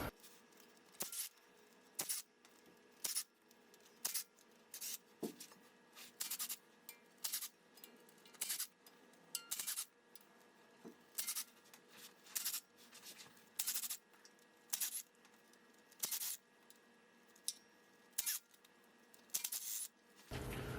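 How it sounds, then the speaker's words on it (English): Ten millimeter bolts are backed out of the lower oil pan on a Ford 6.7 diesel, making a long series of quick ratcheting bursts that repeat at a regular pace with brief pauses between them, close and fairly quiet. "Now I'm going to remove the lower oil pan."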